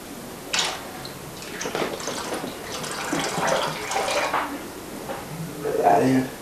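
Liquid poured and splashing while bottling Irish red ale, a running, watery flow of moderate loudness. Someone talks over it.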